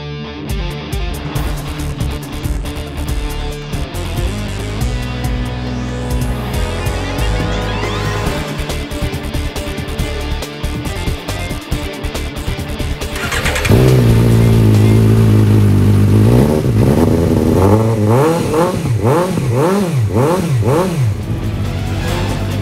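A 2014 Suzuki GSR750 ABS motorcycle, satin black with 14,586 miles, runs loud and close: its engine holds a steady drone, then rises into repeated sharp revs that climb and fall near the end.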